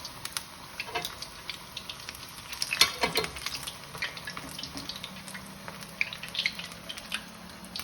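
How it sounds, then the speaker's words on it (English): Chicken balls frying in hot oil give a faint, steady crackle with scattered sharper spits and pops, quiet and close with no talking. "just be careful when you drop them in, so the oil doesn't splutter"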